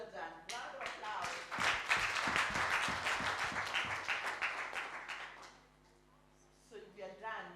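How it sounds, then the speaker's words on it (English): At a cohort celebration summit after group presentations, a room of people gives a lively round of applause that builds, holds for several seconds and fades, after which voices speak briefly. "Round of applause."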